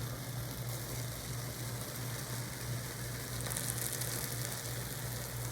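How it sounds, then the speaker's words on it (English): Steady, dense sizzling and crackling of honey syrup poured onto hot baklava pastry, continuous and close, with no voices. "Get a nice sizzle."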